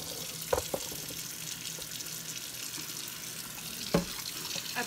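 Cold water runs steadily from a kitchen tap into a sink while pig feet are cleaned, a continuous hiss with a couple of brief knocks or splashes, fairly quiet and with no talking.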